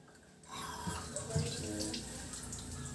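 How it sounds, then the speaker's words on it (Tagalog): Shower water switched on for a seated patient during a bathing procedure, a steady broadband spray starting about half a second in and running continuously at moderate level, with faint voices underneath. "So first thing we need to do is to turn on the shower."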